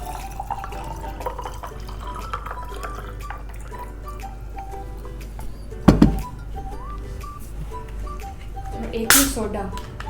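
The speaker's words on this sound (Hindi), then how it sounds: "1 पे डालेंगे हम सादा पानी" Plain water is poured into a glass for making shikanjbeen, a light trickle and dripping under soft background music, with two brief louder splashes.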